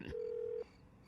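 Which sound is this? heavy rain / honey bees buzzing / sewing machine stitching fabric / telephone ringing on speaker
telephone ringing on speaker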